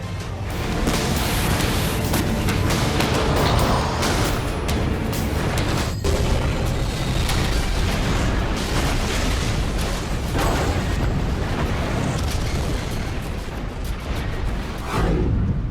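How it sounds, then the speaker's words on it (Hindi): Continuous dense rumbling barrage of booms and blasts at sea, loud and unbroken throughout, like heavy artillery and explosions layered together with a sharp crack near the middle. "समंदर में कुछ यूं अग्निबाण बरसेंगे और बेहिसाब बारूदी विस्फोट होगा।"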